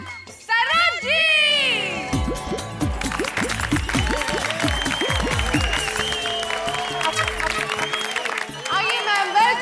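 On the set of Taarak Mehta Ka Ooltah Chashmah, a studio audience claps loudly to welcome judge Saroj. A brief spoken introduction gives way to dense, sustained applause mixed with cheering voices.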